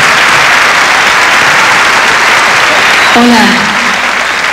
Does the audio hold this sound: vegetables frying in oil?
no